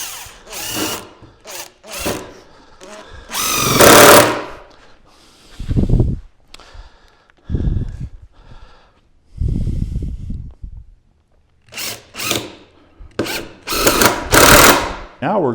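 Power drill driving screws into a wooden corner, a series of short whirring bursts, one long loud run and a cluster of quick pulses later, close up with pauses between.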